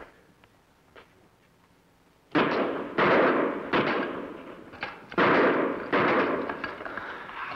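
Gunshots ring out at a tin can in an outdoor western setting: after a quiet start, about six loud close shots in a fairly even series, each sharp crack trailing into an echoing decay.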